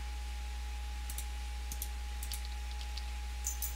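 A machine in a video game runs on its own with quick, sparse mechanical clicks in irregular bursts over a constant low electrical hum.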